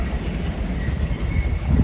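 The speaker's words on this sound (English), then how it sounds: "Another LNER passing through, maybe. Yeah, passing LNER service." An LNER passenger train passes through Doncaster station with a steady low rumble and rolling rail noise, close and continuous and building slightly toward the end, with no voices.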